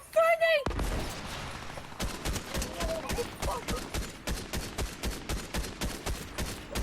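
Rapid gunfire from a Fortnite match, a long steady string of sharp shots at an even rhythm, loud and close, with a brief tone before the firing starts.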